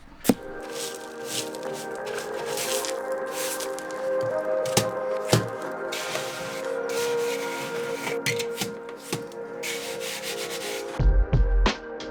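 Sand and lime being mixed together dry by hand for mortar while renovating a small underground room, a steady close gritty scraping and rubbing with occasional sharper knocks, no talking.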